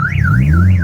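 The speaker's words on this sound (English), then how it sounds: "Oh, I just set off an alarm." A parked car's alarm going off on a city street, a loud, close, rising-and-falling electronic siren warbling steadily with no voices over it.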